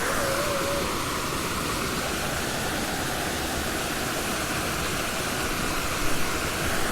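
A waterfall pours with a continuous, broad rushing roar, steady and fairly distant, with no speech over it.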